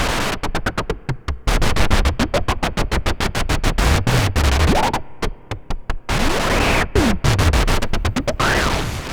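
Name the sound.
filtered white noise with more resonance, Erica Black modular filter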